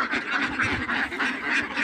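Ducks on a duck farm quack repeatedly and fairly close, a busy rhythmic chorus of nasal calls.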